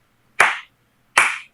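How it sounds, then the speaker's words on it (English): Two slow, deliberate hand claps about 0.8 seconds apart, each a sharp, close slap that rings out briefly in an otherwise quiet room. "Slow clap. Slow clap."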